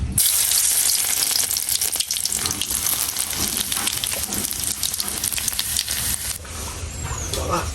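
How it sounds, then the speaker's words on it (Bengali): Boiled greens hit hot oil in a home kitchen with a loud, close sizzle and crackle that runs continuously, with scattered spatters and a brief gurgle of liquid near the end. "সেদ্ধ হয়ে গেছে, এটা আমি ঢেলে এখন তেলে দেবো।"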